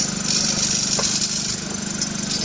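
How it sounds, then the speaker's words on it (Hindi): An open-type, four-pole reciprocating compressor rated at 240 RPM runs steadily during a pumping test, giving a loud, constant mechanical drone with a low, even throb and no speech. "लेकिन ये जो कंप्रेसर है वो ओपन फील का एक रेसिप्रोकेटिंग कंप्रेसर"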